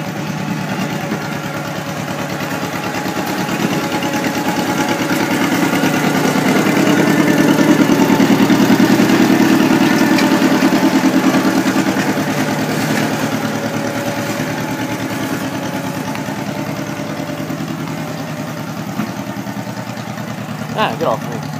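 An old 1941 John Deere LA tractor engine idles close by with a steady, even chug that swells slightly in the middle before settling back to a constant idle.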